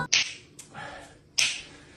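A man snaps his fingers in front of a bowl, three crisp, close snaps spaced unevenly, the first and last loudest.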